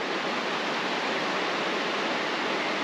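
A big river rushes fast beneath an old bridge, a dense, steady broadband roar of churning water that stays loud and even throughout with no voices.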